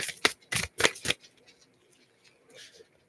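A card drawn from a deck: four crisp, quick papery swishes close up in a fast rhythm, then a few faint rustles and a soft slide as the card comes free.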